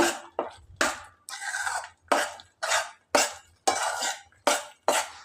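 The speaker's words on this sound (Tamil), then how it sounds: "வதக்கிக்கிட்டே இருக்கணும் கைவிடாமல் அடி பிடிச்சிருங்க" Mango thokku is stirred and sautéed in a heavy-bottomed pan, giving about a dozen sharp, evenly spaced scraping strokes of a spoon against the metal, close and clear with short pauses between them.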